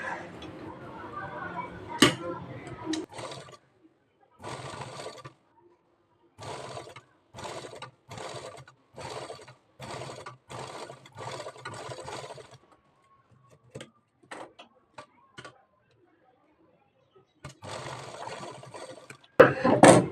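A sewing machine stitches piping onto a blouse neckline in a series of short, rapid bursts separated by pauses, close and clear, with no talk.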